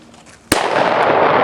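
A single sharp rifle shot fired at a 200-yard target cracks loudly and close, followed by a lingering roll of echo and outdoor wash.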